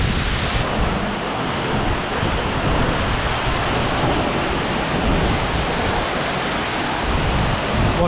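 Loud, roaring rush of a waterfall fed from the alpine slopes of Mount Kilimanjaro in Tanzania, a dense and unbroken wash of falling water heard close up, with no voices.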